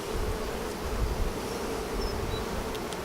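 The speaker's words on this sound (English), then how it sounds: "The bees are shining, they're very quiet." Honeybees in an open hive during a spring inspection give off a steady, dense buzz that holds evenly throughout at close range, with no talking.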